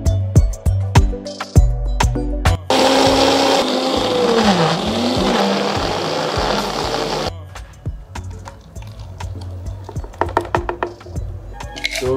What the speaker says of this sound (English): So we are blending everything together in a dry blender.